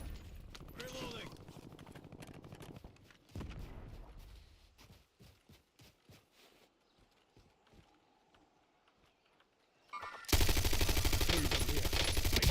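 Gunfire in Call of Duty Black Ops 6 Warzone: scattered sharp shots and clattering bursts under voices, ending in a loud, sustained barrage of automatic fire.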